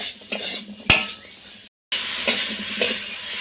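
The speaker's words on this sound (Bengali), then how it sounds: "সব উপকরণ দিয়ে একটু খুব ভালো করে কষিয়ে নেব আলুগুলো।" Potatoes being stirred and fried with spices and chilli powder in a pan, loud sizzling with scraping clatters of a spoon against metal, a sharp clank near the start and a brief silent gap before the sizzle resumes.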